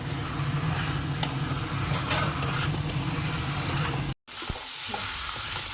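Curry masala is sautéed and stirred in a pan. A loud, dense sizzle carries on with occasional spoon scrapes, then cuts out briefly to silence near the end before the frying resumes more quietly.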